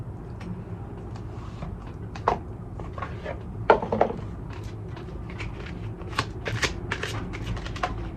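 Tarot cards are shuffled and pulled close by, with soft riffling, slaps and quick papery flicks in irregular bursts against a quiet background.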